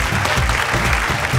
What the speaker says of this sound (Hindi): स्वागत करी झारखंड की जान ममता राउत के, और जोरदार ताली के साथ स्वागत करी तीनों राज्य के 9 योद्धा के।